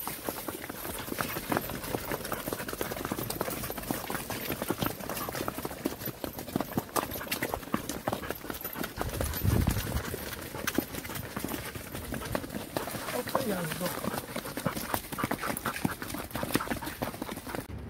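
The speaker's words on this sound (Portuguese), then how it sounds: "Aí galera, chegamos com a boiada aqui dentro do curral para acarretar." A herd of tough cattle being driven into a corral, with steady hoof clopping and trampling that runs continuously throughout, dense and fairly close, with no talking.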